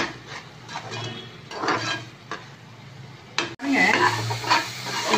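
A spoon scrapes and swirls through a palak spinach gravy mixture with tomato in a pan, a steady close stirring with a faint sizzle underneath and one sharp knock partway through.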